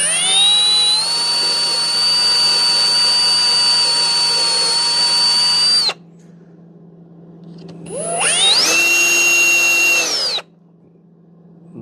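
A power drill whines loudly for several seconds and stops. After a brief pause it spins up again for a shorter run, then goes quiet.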